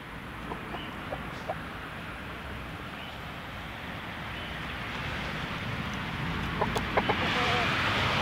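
An Indian game rooster, a galo índio, gives a few faint, scattered clucks against steady outdoor background noise that grows slightly louder toward the end.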